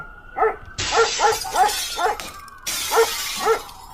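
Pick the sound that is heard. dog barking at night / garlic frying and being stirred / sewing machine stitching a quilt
dog barking at night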